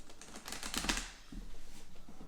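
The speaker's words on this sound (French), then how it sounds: "Je mélange bien les cartes." Oracle cards are shuffled by hand in a soft, continuous riffle of papery flutters and light taps, close and steady, with no talk.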